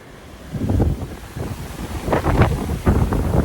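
Gusty wind buffets the microphone in uneven, rumbling surges, loud and close, with no speech, on a ridge hiking trail in Honolulu.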